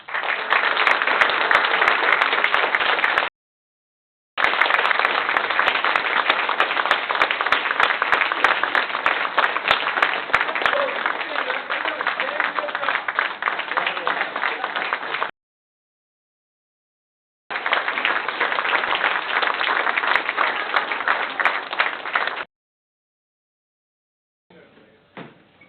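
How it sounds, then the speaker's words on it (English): Sustained audience applause at a city council debate in Kennesaw, loud and dense, in several long bursts separated by brief silences, ending with a faint scattered patter. "please give them a round of applause"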